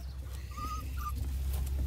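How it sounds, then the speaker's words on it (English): A big dog whimpers in two short, high whines, the second briefer than the first, over a low steady background rumble. "What a dog, eh?"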